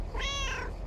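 A single clear cat meow from the video game Lake, close and brief.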